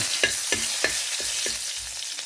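Garlic sautéing in a pan sizzles steadily, broken by about seven rhythmic scraping stirs of a spatula, close and with no voices.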